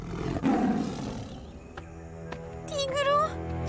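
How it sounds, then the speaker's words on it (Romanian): A tiger roars in an animated film scene, a deep rumbling growl followed by a rising, wavering snarl near the end, fairly loud and close, with some sound effects around it. "Da, este un tigru."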